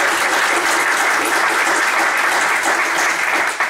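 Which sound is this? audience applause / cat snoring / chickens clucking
audience applause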